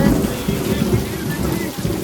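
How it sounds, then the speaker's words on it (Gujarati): Heavy night rain in Patan pours down steadily with a low rumble of thunder underneath, a dense continuous wash of drops close by. "હવે વરસાદ પડ્યો કાટકો ચાલુ છે વીજળી ચાલુ છે"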